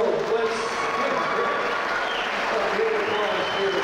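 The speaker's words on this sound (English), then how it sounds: "give a big applause here" Concert audience applauding the conductor after a symphony performance of Verdi, dense continuous clapping at full volume with crowd noise throughout, no gaps.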